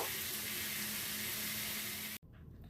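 Water poured into a pan of potato curry sizzling with chili, cumin and coriander powder, a loud, steady hissing rush for about two seconds that cuts off abruptly, leaving quieter bubbling.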